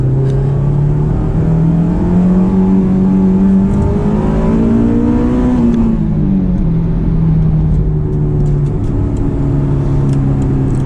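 A Honda S2000 engine drones steadily from the cabin while driving, its tone rising gradually under acceleration then dropping back and holding a constant mid-rev hum, loud and close throughout.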